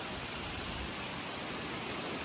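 Steady rain falling on a garden in Germany, a dense, even hiss of drops that holds constant throughout with no voices.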